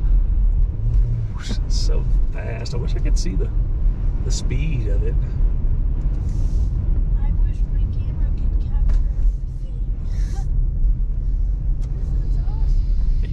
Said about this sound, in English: Just listen to the wind on the car too.